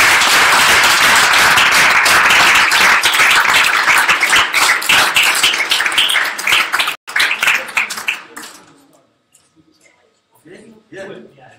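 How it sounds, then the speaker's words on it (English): Big, dense applause from a crowd at a Startup Weekend event, loud and close for several seconds, then breaking into scattered claps and dying away, with a few voices and cheers coming in as it ends. "So a big round of applause for them too."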